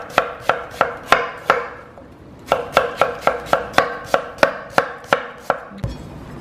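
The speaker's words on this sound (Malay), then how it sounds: "next kita nak potong bawang Holland" A knife chops onions for fried onions on a cutting board in crisp, evenly spaced strokes, a quick run of about seven cuts, a short pause, then a faster burst of a dozen more, close and loud.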